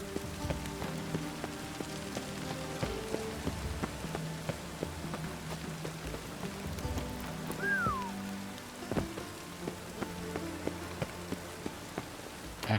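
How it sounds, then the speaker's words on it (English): Steady rain falls in The Witcher 3 video game, a soft, even patter and hiss that continues quietly throughout with faint scattered ambient tones and no talking. "I like rain."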